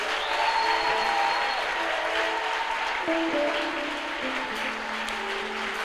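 Church congregation applauding and acclaiming the Lord during a prayer service, dense sustained clapping with faint crowd voices and held tones beneath, loud and continuous.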